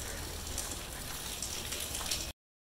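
Rain falls in Sri Lanka as a dense, steady patter and hiss of drops, continuous and fairly close, before the sound cuts off abruptly near the end.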